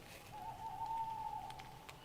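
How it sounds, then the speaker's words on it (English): An owl hoots at night outside a tent in the woods, a single faint, steady hoot held for about a second against a quiet background. "That's just the owls though."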